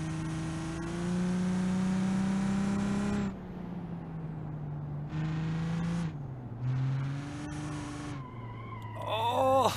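Engine of a fast, sketchy car in BeamNG.drive revving hard with rising and falling tones as it drives, loud and close, pitch climbing through gear changes, with a brief quieter dip mid-drive and a sharp rev at the end.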